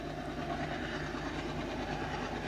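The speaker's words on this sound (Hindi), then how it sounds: "एल्को ने भी अपने पीछे वेब 7 लगाया हुआ है।" An Alco diesel locomotive hauls a WAP-7 electric locomotive, giving a steady, loud rumbling train passage with faint wheel clatter and a low engine drone throughout.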